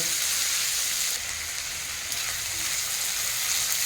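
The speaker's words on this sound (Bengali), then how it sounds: "এখন আমি চিকেনটাকে একটু ভেজে নেব" Chicken pieces frying in a hot pan, producing a steady, fairly loud crackling sizzle that eases slightly midway before picking up again, with no talk.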